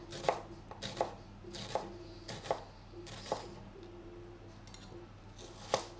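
Knife chopping onions on a board for French onion soup: about seven crisp, evenly spaced cuts, close and moderately quiet, over a faint steady hum.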